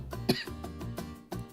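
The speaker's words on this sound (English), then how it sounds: "you made me cough and hit the spot." A single sharp cough bursts out near the start, followed by quieter throat sounds and breathy vocal noises over a low hum, close to the microphone.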